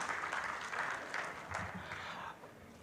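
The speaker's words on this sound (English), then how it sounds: "Please round of applause for Engineer Yusuf." Applause from a summit audience at a Nigerian investment and industrialisation event, a steady wash of clapping that holds for a few seconds and then begins to fade.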